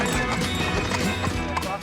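Hooves of a carriage horse clip-clop at a steady walking pace, fairly close, with a voice and a constant hum running underneath the hoofbeats.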